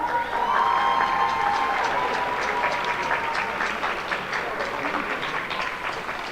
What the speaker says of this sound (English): Let's give a huge round of applause for all the students one more time